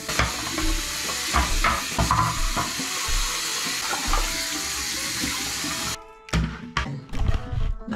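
Tap water running into a container at a home sink, a loud continuous gushing splash with clatters of handling, then cutting off and followed by brief bumps and knocks.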